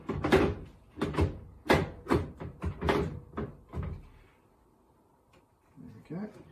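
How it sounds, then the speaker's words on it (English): An oven door is fitted back onto a freshly cleaned oven. Several close, sharp metallic clunks and knocks come in quick succession, then it goes quiet, and a faint scrape follows near the end. "So the door just goes back in like so."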